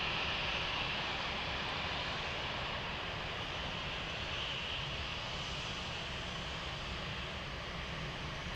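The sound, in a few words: Lufthansa Cargo plane at Frankfurt airport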